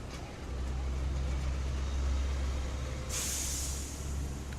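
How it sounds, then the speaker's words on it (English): A bus pulls up at a stop with a steady low diesel engine rumble, then a loud hiss of air brakes releasing near the end. "Ah, this is my bus."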